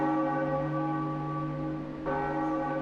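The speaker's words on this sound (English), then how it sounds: "Is that the same bell sound that every single IP uses?" A sustained church-style bell tone from the video game Wind Waker hums with rich ringing overtones, fading slightly before a second strike renews it near the end.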